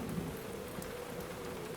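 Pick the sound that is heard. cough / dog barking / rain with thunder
rain with thunder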